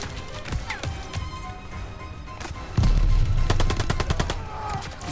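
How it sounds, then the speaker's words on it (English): Machine gun fire in the Call of Duty Vanguard campaign at Stalingrad: scattered shots and distant battle noise, then a loud, close burst of rapid automatic fire with sharp, evenly spaced cracks. "Fucking machine gun."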